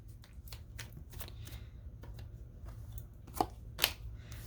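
Tarot cards are shuffled by hand in a run of soft riffling flicks and slaps, with two sharper snaps near the end, close and fairly quiet over a low background hum.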